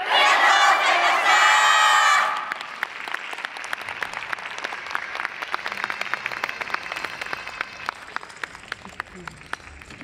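A crowd at the 2023 Fukushima YOSAKOI festival roars with loud shouted cheers for about two seconds after a dance team's performance, then settles into steady, scattered clapping that continues to the end.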